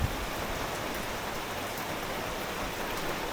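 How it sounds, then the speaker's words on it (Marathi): Steady rain falling, a dense even hiss of drops filling the whole moment with no talk. "एकदम मस्त पाऊस सुरू झाला"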